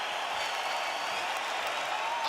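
A fight crowd applauding and cheering at the end of a round of a Big Chin Hunt versus Bigfoot bout, a steady dense wash of clapping and distant cheers at moderate volume.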